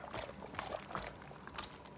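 Water sloshes and trickles inside a toy water play mat as it is pressed and moved, soft irregular gurgles and little splashy swishes up close, fairly quiet with no talking.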